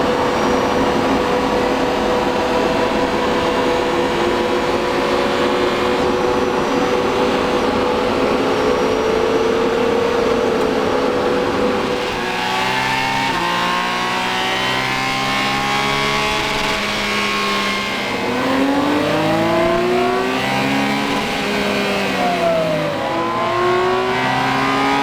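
A BMW K1600 GTL six-cylinder motorcycle on a dyno holds a loud steady drone, then revs up and down through repeated sweeping pulls with a roar of rushing air.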